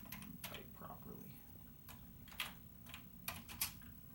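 Typing on a Waveform Colortone computer keyboard, faint irregular key clicks and taps at a low level over a steady low hum, with a few sharper strokes near the end.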